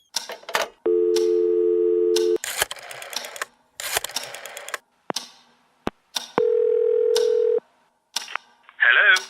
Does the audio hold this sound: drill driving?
no